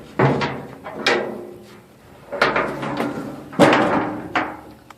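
A metal cooker door is swung and shut repeatedly, giving several hollow thuds and clanks spaced about a second apart, close and fairly loud with short metallic ringing after each impact.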